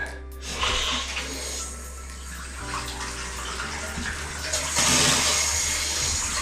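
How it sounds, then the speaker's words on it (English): Water from a Moen Genta three-hole faucet runs into a newly installed bathroom sink to fill the drain trap, a steady, close rushing stream that swells slightly near the end, with no voices. "I like to run a bit of water first, fill up that trap"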